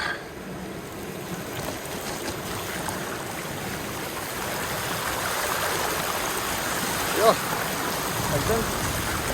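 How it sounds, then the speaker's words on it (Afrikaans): River water flows over a flood-damaged mountain road in Meiringspoort after the river was blocked and rerouted, a steady close rushing wash that runs throughout with brief talk over it. "Nou loop die rivier hierdie kant deur in plaas van daar."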